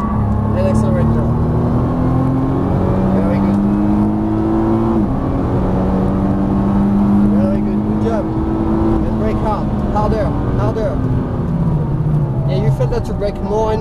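A Nissan GT-R accelerates on a race track, its engine roaring and climbing in pitch through the gears, with a brief dip around a shift. Someone talks over the loud, close-up engine throughout.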